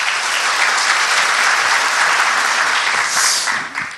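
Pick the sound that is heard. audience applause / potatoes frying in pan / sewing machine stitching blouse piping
audience applause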